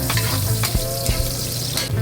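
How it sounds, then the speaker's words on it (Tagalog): Ginger sizzles in hot oil in a pan while being stirred for Filipino chicken tinola, a loud, close frying hiss broken by scraping utensil strokes and small clacks, with no talking. "At ilagay na natin ang ating luya at ating imekos-mekos."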